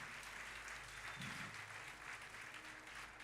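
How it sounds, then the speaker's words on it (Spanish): A church congregation claps steadily and densely throughout a Mother's Day worship service, a continuous wash of many hands close by with no pauses. "Dele un aplauso al Señor, aleluya"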